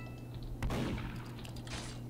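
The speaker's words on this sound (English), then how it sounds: "Big explosion for the win." A big explosion in the Roblox game Murder Mystery 2 during its Christmas event, heard as a muffled boom followed by rumbling crackles over a steady low background hum.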